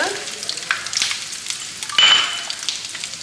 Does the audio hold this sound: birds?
no